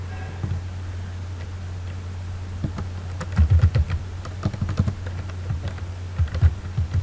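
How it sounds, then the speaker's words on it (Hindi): Fingers type a word on a computer keyboard in quick, light clusters of close clicks, with short pauses between bursts over a steady low hum. "मैं यहाँ पे एक वर्ड टाइप करता हूँ"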